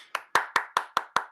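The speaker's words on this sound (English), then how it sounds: "Round of applause for Mohammed." Six crisp, evenly spaced hand claps ring out in quick succession, close and sharp, welcoming a speaker named Mohammed to the stage at a refugee week writing showcase.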